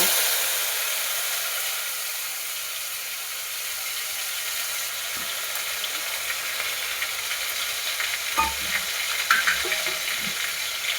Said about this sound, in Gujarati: પછી આપણે ડુંગળી ટમેટા નાખી દેવું.